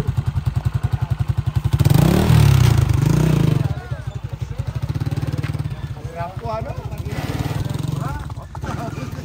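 Motorcycle engine revving hard in a close, loud run, with a rapid pulsing exhaust beat that surges and climbs around the middle and then settles into a choppy rumble. Crowd noise and shouting run underneath.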